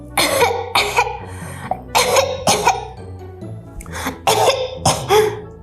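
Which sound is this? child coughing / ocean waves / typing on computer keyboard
child coughing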